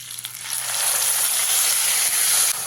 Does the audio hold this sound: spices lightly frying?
yes